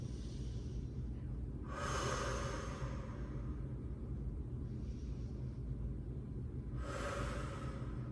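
Slow deep breaths taken during a child pose stretch in a Pilates mat class, two long airy inhalations a few seconds apart over a steady low room rumble, with no talking.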